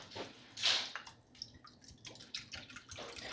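Tap water runs into a cooking pot as it fills toward the 4-liter mark for homemade bone broth with apple cider vinegar, a steady trickling and splashing with drips, close by and fairly soft, with no talk.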